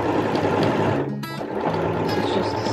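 A sewing machine runs a stay stitch line on a jacket, its needle whirring in a steady close hum that dips briefly near the middle before picking up again, with no talking.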